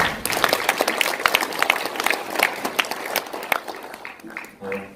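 An audience at a roundtable marking Park Chung-hee's birth anniversary claps to welcome a speaker, with brisk, uneven applause that fades during the last second as a voice starts.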